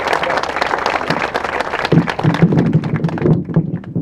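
Crowd at an outdoor community walk applauds people who shared personal stories, steady dense clapping with some heavier taps and thuds, loud and continuous, with a little speech mixed in.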